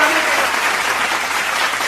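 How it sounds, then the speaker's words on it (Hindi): A large crowd at a Hindi comedy poetry gathering bursts into loud, dense applause that fills the space evenly from start to finish, with no break and no voice over it. "तालियां जोरदार आनी।"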